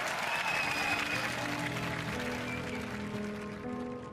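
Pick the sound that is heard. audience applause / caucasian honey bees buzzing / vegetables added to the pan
audience applause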